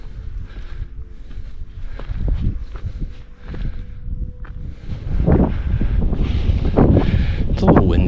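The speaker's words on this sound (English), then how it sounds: "it's a little windy." Wind gusting across a mountain summit trail near Mount Eklutna, buffeting the microphone with low rumbling bursts that build stronger toward the end, with footsteps crunching and a person talking close by.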